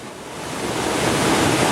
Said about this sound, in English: The rushing water that Frank was talking about goes right off a cliff.